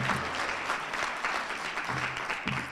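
An audience applauds a new medical student at a WAUSM white coat ceremony, steady crowded clapping throughout with a faint low voice murmur beneath.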